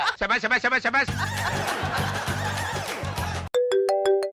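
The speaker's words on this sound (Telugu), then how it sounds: "ఇంటి ఓనర్ ఫోన్ చేస్తున్నాడు" Laughter and chatter in a comedy sketch give way to a short electronic phone ringtone, a few bright repeating beeps near the end.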